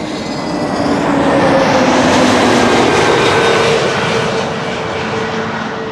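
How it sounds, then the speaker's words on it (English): A Transavia Airbus A321neo arriving at Amsterdam Schiphol roars loudly and close as a sustained, broad jet engine rumble with a faint whine that swells and then eases slightly. "Transavia arriving from Barcelona, an A321neo"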